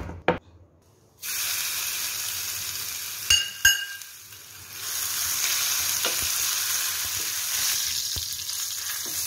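A sharp burst of sizzling as crushed garlic hits hot ghee, settling into a steady crackling fry with a few clinks, no voices.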